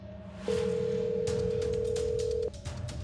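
A steady electronic phone tone from a call being placed in Roblox, holding evenly for about two seconds, with soft background music underneath.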